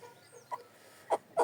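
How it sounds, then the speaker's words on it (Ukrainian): Several short, soft clucks from Chinese silkie chickens, one faint and then two louder ones close together, nearby in a quiet setting. "А приїхали до нас китайські шовкові курочки"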